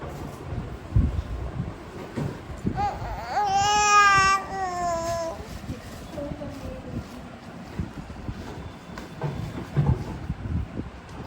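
Little baby girl fussing and whimpering, a rising and falling whiny cry that stands out briefly over household background noise, with faint sounds around it.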